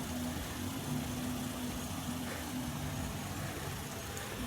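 A parked police vehicle idles outside a Takoma Park, Maryland police station, its engine a steady low rumble under broad, even outdoor noise with no speech.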